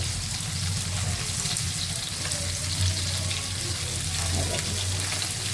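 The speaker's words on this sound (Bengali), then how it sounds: "আলু বেগুন দিয়ে ফুলকপি দিয়ে রাইক বাটা মাছ রান্না করব ভেজে নিচ্ছি" Pieces of rui or bata fish fry in hot oil with a steady, dense sizzle that stays close and even throughout, with no voices over it.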